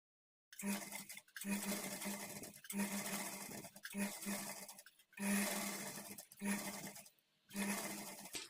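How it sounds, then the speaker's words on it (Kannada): An electric sewing machine stitches piping onto a blouse neckline in repeated bursts of fast, steady whirring, each run stopping briefly before starting again, close and clear with no speech. "ಈ ಕೂಳೆನ ಬ್ಯಾಕ್ ಸೈಡ್ ಕಡೆ ನಾವು ಇಟ್ಕೊಂಡು ಸ್ಟಿಚ್ ಮಾಡ್ಕೊಳ್ತೀವಿ"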